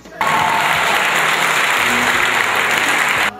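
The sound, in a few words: applause welcoming the Republican party leader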